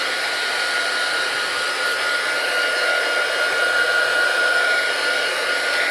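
A heat gun blows a steady, loud, even hiss of hot air onto a Samsung Galaxy Tab A 2019 tablet to loosen its screen, with no breaks and no voices.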